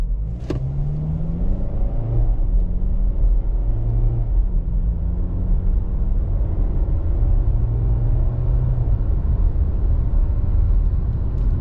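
A 2024 Kia Sportage LX AWD pulls away from a stop, its engine a steady, loud low drone from inside the cabin, rising through several smooth tones as it accelerates alongside road noise.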